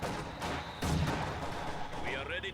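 Heavy mortar fire in a competitive multiplayer video game match: dense booming blasts and rumbling gunfire, with a heavier impact near the middle and a whistling tone toward the end, alongside faint voices.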